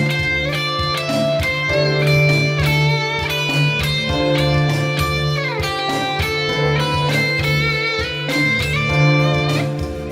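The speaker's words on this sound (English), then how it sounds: "I'm now putting a D Dorian backing track on" Dense D Dorian backing track for guitar practice, with sustained bass and chord tones under bright melodic lines, loud and continuous throughout with no talking.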